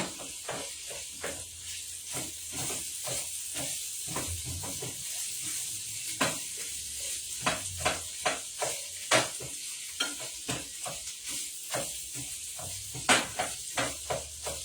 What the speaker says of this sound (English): So now we're just frying up the sausage part, and it's about to be done with some garlic and onions